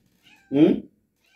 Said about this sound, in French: sinon elle va miauler pendant toute la vidéo